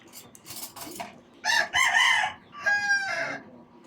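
A chicken clucks and squawks in a few loud, agitated bursts, with quieter scratchy sounds in between.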